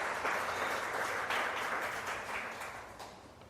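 A congregation applauds during a sermon, a thick wash of clapping that stays loud and then gradually fades toward the end.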